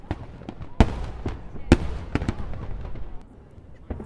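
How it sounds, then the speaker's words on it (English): Sydney New Year's Eve fireworks burst over the harbour and Harbour Bridge, a scatter of sharp distant bangs and crackles at irregular intervals, several louder detonations standing out amid a faint murmur of crowd noise. "Sydney's New Year's Eve fireworks have become iconic and known throughout the world"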